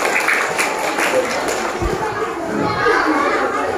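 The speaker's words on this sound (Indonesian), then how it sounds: "Tepuk tangan dulu dong, tepuk tangan dulu." A group of children clapping together in applause, a steady dense patter of hands that runs the whole moment, mixed with lively kids' chatter and voices around it.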